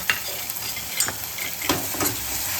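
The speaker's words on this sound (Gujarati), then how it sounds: "પેસ્ટ આદુ લસણ ને મરચીની પેસ્ટ નાખી દઈશું" Ginger, garlic and chili paste frying and sizzling in a pan, a steady broadband hiss with occasional stirring scrapes and clinks, close and continuous without speech.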